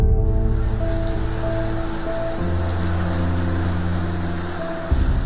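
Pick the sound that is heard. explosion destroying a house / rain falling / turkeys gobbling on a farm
rain falling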